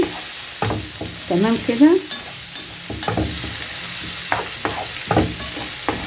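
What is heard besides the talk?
onions sautéing in a pan with chicken and spices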